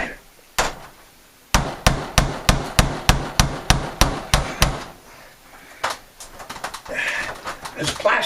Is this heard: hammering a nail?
yes